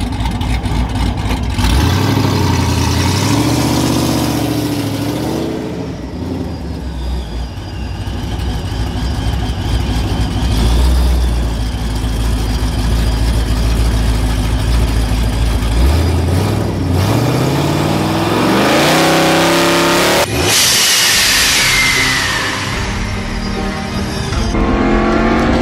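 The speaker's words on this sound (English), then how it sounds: "So I'm gonna back up, let you guys see a trans brake launch from outside the truck." A loud truck engine revs hard and holds at high pitch, then roars as it makes a trans brake launch, with pitch sweeping up through the gears, heard from outside the truck.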